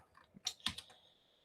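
A few soft, quick keystrokes on a glitching computer keyboard, faint and close, clustered in a short burst and then fading to quiet.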